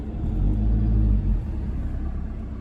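A car rolls slowly around a car park, its engine giving a loud, close low rumble that swells and eases as it loops around.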